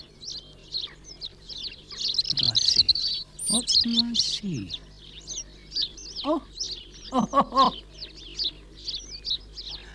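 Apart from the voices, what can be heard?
garden birds chirping in Britain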